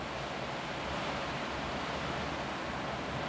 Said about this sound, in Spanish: Creo que al fondo pueden escuchar la lluvia.